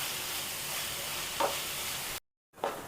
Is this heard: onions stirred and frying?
yes